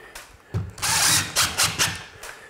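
Screws being driven into a drywall sheet held against a ceiling with a power drill, in a few short, loud whirring bursts with brief pauses between them.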